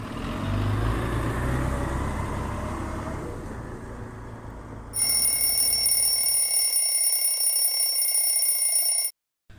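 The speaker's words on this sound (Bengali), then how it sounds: "প্রতিদিনের মতো আজও অ্যালার্ম ঘড়িটা সঠিক সময় বেজে আমায় ঘুম থেকে তুলে দিল" After a low engine-like rumble, an alarm clock rings loudly and continuously for a few seconds, then cuts off abruptly.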